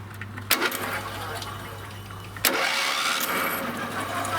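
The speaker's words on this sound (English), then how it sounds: "I'm going to go over and spin that engine, and let's see what happens here." A Briggs engine on a John Deere lawn tractor is cranked over in two short bursts, each opening with a sharp click, then a rough mechanical whir with a faint steady hum underneath.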